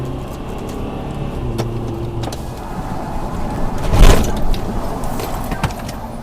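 A car drives steadily while a white taxi comes up from behind on the road, with a constant road and engine rumble and a brief louder swell partway through.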